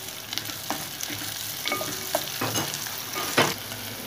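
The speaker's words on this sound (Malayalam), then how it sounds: "ഇനി നമുക്ക് അരിഞ്ഞു വെച്ചേക്കുന്ന സവാള ഇട്ട് കൊടുക്കാം" Chopped onions hit a hot pan already holding garlic, ginger and green chili for a fish head curry, raising a steady close sizzle broken by scraping stirs and small clatters.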